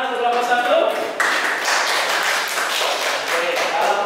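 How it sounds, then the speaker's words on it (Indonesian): A classroom of students claps for a presenting student group, a dense, steady patter of hand claps lasting several seconds over faint background talk. "beri tepuk tangan untuk kelompok 1"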